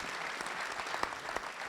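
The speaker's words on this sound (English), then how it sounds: "Round of applause." Audience applause at a Gymkhana GRiD live press conference, continuous clapping with a few sharper individual claps standing out, moderately distant and even throughout.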